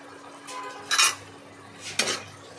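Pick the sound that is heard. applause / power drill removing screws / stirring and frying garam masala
stirring and frying garam masala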